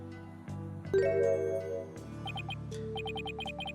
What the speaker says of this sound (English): Don't do it, Athena. Don't ring that bell.